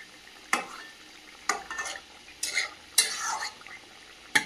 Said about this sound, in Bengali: এদিকে আলু উচ্ছেটা ভাজা চাপিয়ে দিয়েছি